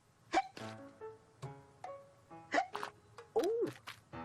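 A cartoon character hiccups repeatedly in short, close, squeaky bursts with brief vocal yelps between them, alone in the foreground.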